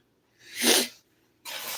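A single sharp sneeze bursts out close to the listener, followed a moment later by a breathy exhale.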